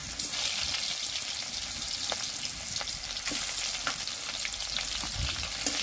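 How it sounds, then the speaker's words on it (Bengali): Chopped onions fry in a pan after cumin and dried chilli, giving a steady close sizzle with occasional stirring scrapes and spatter pops, no voices. "পেঁয়াজটা ভালো করে ভেজে নেব।"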